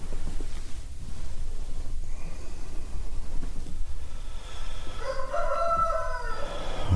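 A rooster crows in a farmyard early in the morning, a single loud, drawn-out cock-a-doodle-doo rising near the end over a steady outdoor background.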